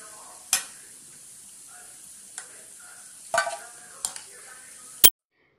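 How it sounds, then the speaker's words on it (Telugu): Punugulu fritters frying in oil give a steady, soft sizzle, punctuated by a few sharp clicks of a utensil against the pan, close by with no talking, ending abruptly. "లైట్గా కలర్ వచ్చే వరకు ఫ్రై చేసుకుంటే సరిపోతుంది."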